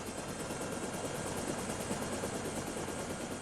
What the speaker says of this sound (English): Helicopter noise, suddenly you see a balloon, then the helicopter.